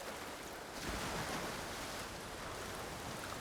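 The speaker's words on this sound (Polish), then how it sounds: "Bo fale mnie odpychają na przykład." Ocean waves in the video game Ghost of Tsushima, a soft continuous wash of surf with a gentle swell, faint and steady with no talk.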